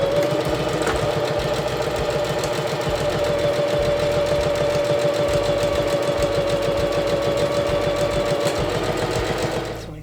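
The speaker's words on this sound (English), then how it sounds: "I'm going to get the sewing machine and I'm going to sew right here on both of these" A sewing machine stitches fabric for a face covering, running in a fast, steady mechanical rattle with a constant motor hum throughout, close and loud, then slowing at the very end.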